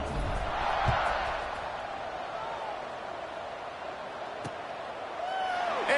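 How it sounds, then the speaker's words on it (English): Football stadium crowd at a USF versus Boise State game, cheering just before kickoff: a steady, broad roar of many voices with some swells and whoops throughout. "this crowd now ready to get behind them"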